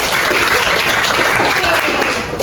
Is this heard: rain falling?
no